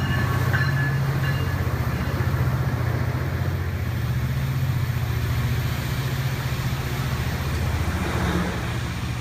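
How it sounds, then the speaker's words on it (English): Passenger train pulling out after a brief stop on the Los Angeles to San Diego rail corridor in San Diego County, a steady close rumble of wheels and engine with rhythmic clatter running throughout. "the train heads out."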